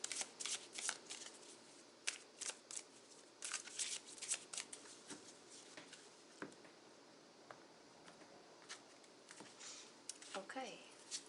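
Oracle cards are shuffled by hand, with soft, quick riffling and flicking bursts that come in irregular clusters, close and fairly quiet against a near-silent room.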